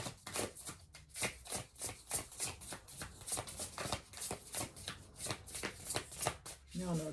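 Large tarot cards being shuffled by hand, a continuous rhythmic series of riffling slaps and swishes, close and steady throughout, with no talking.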